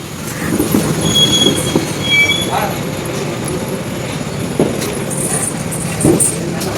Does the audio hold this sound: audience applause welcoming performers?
no